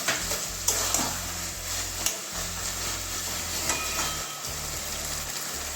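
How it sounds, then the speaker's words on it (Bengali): Kochu shak (taro leaf greens) is stirred in a pan while its water cooks off. A spatula scrapes close and repeatedly over a continuous sizzle, alongside a steady low hum, with no speech. "এইভাবে নাড়াতে থাকবো যতক্ষণ ওই শাকের জলটা টানতে না ততক্ষণ তখন নাড়াতে থাকতে হবে আমাকে"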